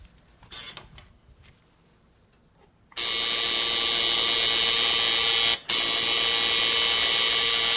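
A tattoo machine starts with a sudden click and then buzzes loudly and steadily, with a brief cut-out near the end, after a few quiet rustles.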